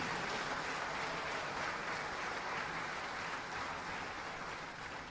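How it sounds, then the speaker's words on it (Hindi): A ceremony crowd honouring hockey player Vivek Sagar claps in sustained, even applause that sounds somewhat distant and washed out and fades slightly toward the end. "जोरदार तालियां"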